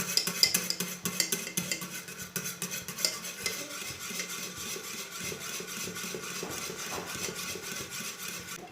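Eggnog chai, tea with beaten eggs added, cooks in a pan on a stove and is stirred with a utensil, giving repeated scraping strokes over a soft bubbling simmer, close and moderately quiet.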